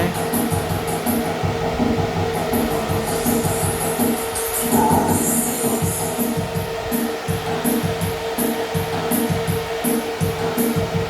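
A loud power amplifier cooling fan whirs steadily up close, its constant hum and hiss overlaid by a regular ticking pulse.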